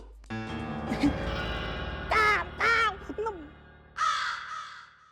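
Crow cawing in a Hindi police comedy scene, several harsh caws in separate bursts, loud and close, with a sustained tonal background underneath.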